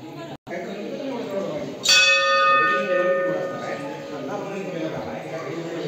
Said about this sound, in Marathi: किती वरती घंटा आहे.